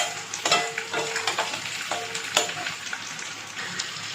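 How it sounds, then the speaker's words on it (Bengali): Onion and tomato frying in a pan, a steady sizzle broken by repeated clattering stirs of a spatula against the pan, close and moderately loud, with no talking. "আমার পেঁয়াজটা ভাজা ভাজা হয়ে গেছে। আর টমেটোটা দিয়ে দিচ্ছি।"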